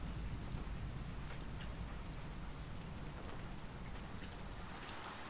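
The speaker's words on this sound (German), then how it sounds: "Bei diesem strömenden Regen." Heavy, steady downpour in the Little Nightmares II video game, a dense continuous hiss of rain drumming on surfaces with no gaps, loud and close throughout.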